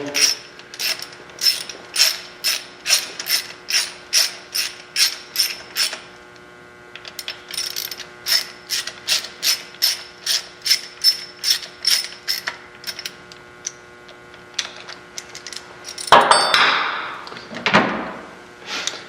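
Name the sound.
torque wrench ratcheting on Harley cam bolts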